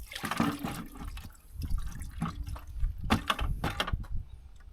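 Old water drains from a Kubota tractor radiator during a radiator replacement, a close, uneven splashing and gurgling pour with irregular bursts running throughout.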